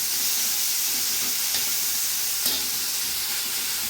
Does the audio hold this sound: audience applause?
no